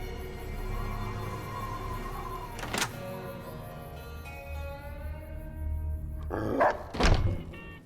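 Cheyenne the dog in Fallout New Vegas letting out two or three sharp barks near the end, preceded by a dull thunk and a quiet tonal hum.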